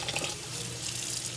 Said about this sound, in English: Okay guys, I have my rice here. I'm gonna give it a wash.